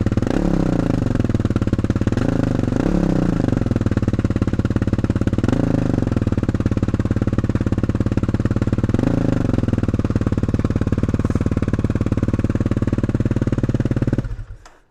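A Kawasaki KLX300R dirt bike fitted with an FMF Q4 exhaust with a turn-down tip idles after a cold start, a steady, fairly quiet low thrum with a few brief blips of throttle before it suddenly cuts off near the end.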